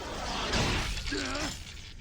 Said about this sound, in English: One more strike and this window will shatter.